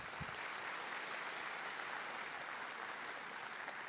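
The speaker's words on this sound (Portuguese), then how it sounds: "Uma salva de palmas para o pessoal." A crowd claps in a hall for the staff being thanked at a health event, a soft, distant, even patter of applause that continues without a break.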